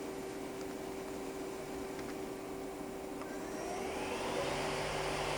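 A Samsung SL-20 CNC turning center spindle runs at 1500 RPM, producing a steady, even mechanical hum with a constant tonal whine. It rises slightly in pitch and level near the end and plays alone, without talk.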